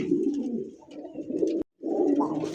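American flyer pigeons coo in low, throaty rolling calls, several overlapping birds close by, broken by a short silent gap before the cooing resumes.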